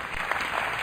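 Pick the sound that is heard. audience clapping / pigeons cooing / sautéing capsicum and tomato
audience clapping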